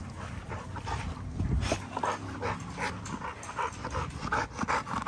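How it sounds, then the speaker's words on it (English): Dog, an XL pit bull, whimpering and panting in short bursts with some yips, fairly close and moderately loud over a noisy outdoor background. "This is real dog behavior."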